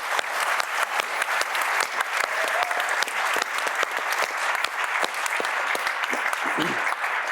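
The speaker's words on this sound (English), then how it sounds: "Please join me in giving them a warm round of applause." A large audience at a scientific summit applauds steadily, a dense, sustained clapping that fills the whole stretch at an even, loud level.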